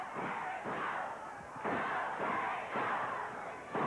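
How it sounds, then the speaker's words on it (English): A wrestling arena crowd at the Global Dome chants "Go, Terry, go" in loud, rhythmic surges, with each repeated shout rising and fading about every half second. "The chant of "Go, Terry, go." You hear him here at the Global Dome."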